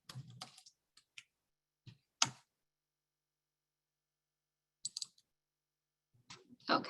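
Scattered bursts of computer keyboard typing, a few quick keystrokes at a time, separated by long silent gaps in a quiet room.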